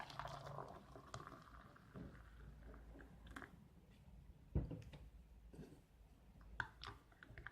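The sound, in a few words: pouring hot water into MRE beef roast meal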